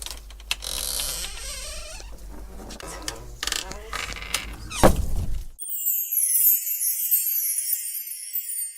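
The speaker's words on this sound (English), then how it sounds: "So when you've gone through, the door shuts behind you." A weighted one-way door inside a labyrinth exhibit swings shut, creaking and rattling before a heavy thunk, then stillness.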